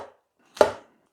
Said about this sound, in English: You're going to cut some broccoli.